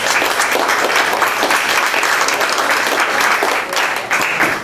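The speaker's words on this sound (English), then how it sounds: "we will be presenting to you Robin Swoboda, and you can clap again." Studio audience applause on a talk show, loud and sustained, a dense wash of clapping hands throughout with a few voices mixed in.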